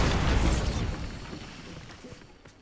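A Bombarda spell detonates in Hogwarts Legacy with a loud, close boom that rumbles and crackles, then decays over the next two seconds under continuing game sound.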